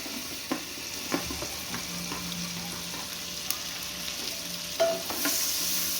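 Chopped onion sizzles softly in melted butter in a pan for tomato soup. A spoon scrapes and stirs in a few distinct strokes over the steady, fairly quiet frying hiss.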